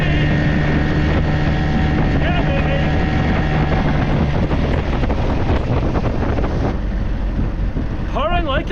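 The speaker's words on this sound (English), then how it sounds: "I wanted to test the engine at various speeds to see if the nasty sound would come back at certain revs." A boat engine runs steadily as its revs change, a loud continuous drone under wind buffeting, with voices near the end.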